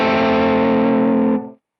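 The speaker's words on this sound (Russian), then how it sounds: "гармонайзер автоматически мне гармонизирует ноту ля и достраивает ноту до" A single sustained electric guitar note A, harmonized by a TC Electronic Quintessence harmonizer pedal, rings loud and rich with layered tones before cutting off and fading quickly near the end.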